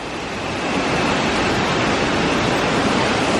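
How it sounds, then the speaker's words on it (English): Costa Rica waterfall roaring steadily in broadband rushing noise, loud and continuous, with no voices. "Down there is the second waterfall."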